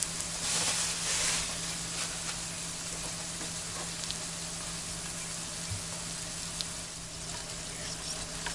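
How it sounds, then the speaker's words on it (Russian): Lavash-wrapped pies laid seam-side down sizzle and fry steadily in a hot pan, a dense continuous crackle with occasional small pops, close and alone without talk. "И я швом вниз выкладываю свои пирожочки. так. И начинаем обжаривать."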